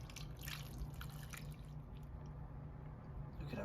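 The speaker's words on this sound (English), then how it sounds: "Now I'll just pour the rest of the marinade over this." Teriyaki marinade drips and trickles quietly over skewers of marinated beef, onion, squash, zucchini and bell pepper, a soft, close, continuous liquid patter with no voices.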